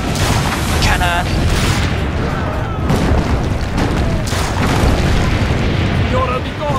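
A loud booming blast of a cannon firing in Assassin's Creed Brotherhood, set within dense, busy game audio and music that runs continuously throughout.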